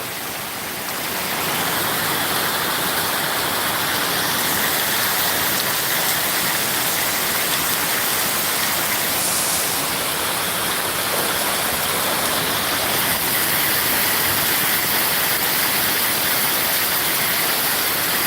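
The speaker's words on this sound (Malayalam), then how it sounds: "ചെറിയൊരു മഴ പെയ്തതേ ഉള്ളൂ ഇത്രയും വെള്ളക്കെട്ടിൻ്റെ" Rain and floodwater rush steadily along a waterlogged road in Hyderabad after a downpour, a loud, continuous hiss that holds unbroken throughout.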